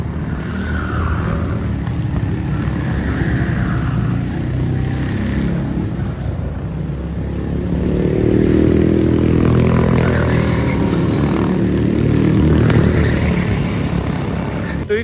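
A go-kart engine drones steadily as the kart runs around a track, a loud continuous buzzing that swells louder in the middle and again near the end, with no talking.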